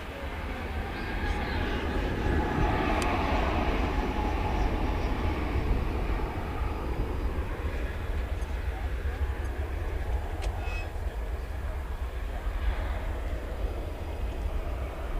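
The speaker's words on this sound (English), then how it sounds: "So Finnair's off to Helsinki" A Finnair airliner departs DFW Airport for Helsinki at night. A broad, sustained jet roar swells early and stays steady throughout, heard from a distance with faint background voices.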